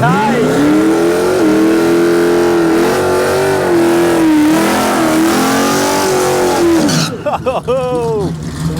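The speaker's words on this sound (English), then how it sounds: "Juicy burnout there, Mark. Juicy burnout." Mark's freshly panelled and painted Juiced EK radial drag car doing a burnout at a Perth drag strip, its engine held at a loud, steady high-revving scream for several seconds before dropping off abruptly, with a commentator talking over it.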